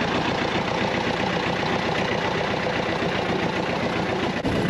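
A small red tractor engine running with a weeder attached on a farm field, a loud steady chugging drone close by with even rhythmic pulsing and no speech.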